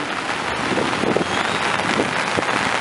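Heavy rain during the rainy season pours in a dense, steady hiss, with gusty wind noise buffeting the microphone close by.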